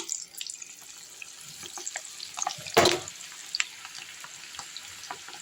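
Onion pakoda batter hitting hot oil, a steady crackling sizzle with scattered pops and a sudden loud burst of frying as a batch goes in, close by.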